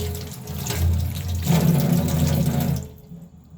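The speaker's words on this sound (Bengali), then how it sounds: "পাতাগুলো ভালো করে ধুয়ে নিতে হবে।" Fresh mint leaves are rinsed under a running kitchen tap, with a steady close rush of water splashing over the leaves for about three seconds before it stops abruptly.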